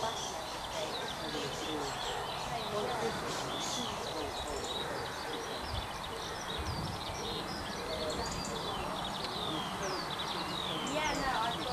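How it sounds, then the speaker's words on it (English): Skylarks and warblers, including blackcaps and chiffchaffs, sing across a low hill and wooded valley on a late May morning, a steady layered chorus of chirps and trills running throughout over faint background hiss. "all around us there's lots of skylark song up on the low hill, and then in the valley at Netherhouse Copse you've got a lot of warbler song"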